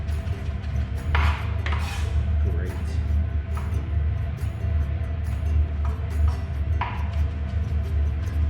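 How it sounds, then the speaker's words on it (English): A knife chops food on a cutting board into a black and green paste with a little salt, giving a few scattered, faint knocks under ongoing talk. "you want to just really chop that up into almost like a nice black and green paste"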